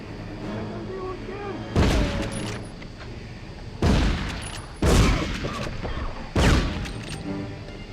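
Bursts of machine gun fire from the Medal of Honor game on PlayStation, four loud sustained volleys separated by short gaps, with talking underneath.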